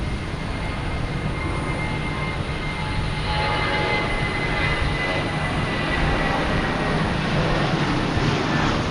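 A JetBlue jet with a white nose at Boston Logan, bound for Raleigh-Durham, gives a loud, steady engine roar that holds close and constant throughout, with no talking.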